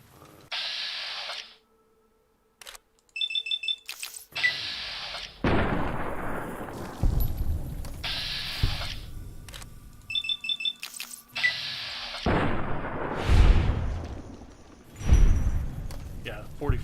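Gunfire from a .45 pistol in Fallout: New Vegas, with several sharp shots and booming blasts scattered across the stretch, some echoing into rumbling tails amid game music and ambience.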